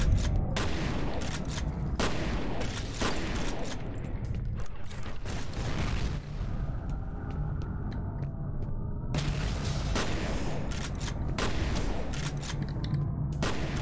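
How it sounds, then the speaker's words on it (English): Bursts of gunfire aimed at ghosts in the video game F.E.A.R., loud sharp volleys with separate shots clustered at the start and again toward the end, and a quieter stretch of mechanical rumble between them. "what the hell am I shooting at? Because I see ghosts! I'm shooting goddamn ghosts!"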